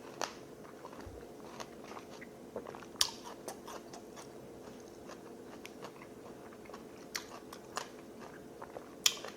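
Close, crisp crunching and chewing of raw melon rind, with sharp bites scattered irregularly over steady quiet mouth sounds and no talking.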